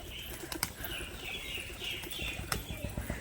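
A pigeon takes off in a brief flurry of wing flaps, with a few sharp claps, close by and fairly quiet over faint outdoor background.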